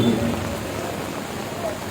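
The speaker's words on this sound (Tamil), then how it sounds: "கொட்டும் மழை என்றாலும்" Heavy pouring rain at an outdoor public meeting, a dense, steady hiss of rain beating on surfaces that stays loud throughout, with someone speaking over it.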